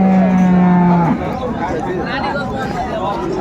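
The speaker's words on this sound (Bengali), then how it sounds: "শাহিওয়াল গাভী বাছুর" A Sahiwal cow, with her calf nearby at a busy village cattle market, gives one loud, close moo lasting about a second. A steady babble of crowd chatter follows.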